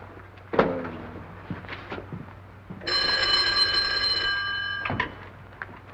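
An old-fashioned telephone bell rings once in a sustained metallic burst lasting about two seconds, near and clear, framed by a few thumps and rustles.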